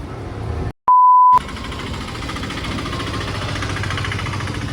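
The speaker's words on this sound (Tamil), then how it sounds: "ஸ்கூலில் திரும்பினா இந்த பக்கம் ரொம்ப டிராஃபிக்காக இருக்கும்." Busy road traffic near a school, a steady wash of engine rumble and idling noise, broken briefly by a short sharp electronic beep.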